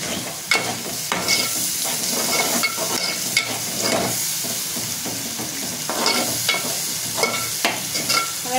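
A ground paste of onion, coconut, green chili and ginger sizzles loudly in a pan while a spatula scrapes and stirs it in irregular strokes, close and continuous.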